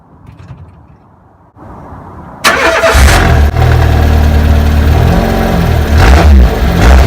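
A Peugeot 106 with a modified exhaust cranks and fires up, then revs loudly and deeply with a raspy, booming exhaust note, close to the microphone, with repeated throttle blips.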